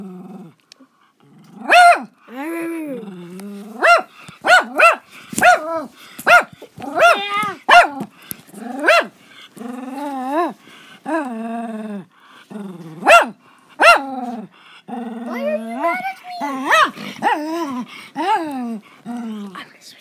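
A dog barks and growls in a long run of loud, close, irregular bursts with short pauses between them, standing alone without speech.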